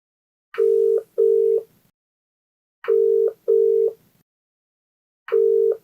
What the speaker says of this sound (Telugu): మరి కాల్ చేసేద్దామండి.